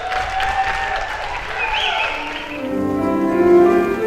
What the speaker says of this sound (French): Les habitants confinés se réunissent tous les soirs à 20h à leurs fenêtres et balcons pour applaudir et encourager le personnel médical.